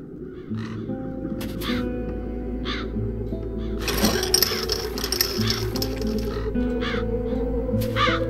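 Crows caw repeatedly in a fantasy adventure game town, harsh calls scattered over a looping musical background, with a brief burst of clattering noise midway.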